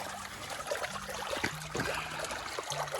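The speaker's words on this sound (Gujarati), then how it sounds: "અહીંયા પાણી આવે છે, ખળખળિયો થાય." Irrigation water gurgles and trickles along a small channel in a chickpea field in rural Gujarat, making a continuous, close, soft bubbling flow with little splashes throughout.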